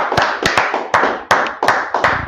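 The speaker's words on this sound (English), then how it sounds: "Clap it up." Several pairs of hands clapping in a class, close and loud, in quick uneven bursts over about two seconds.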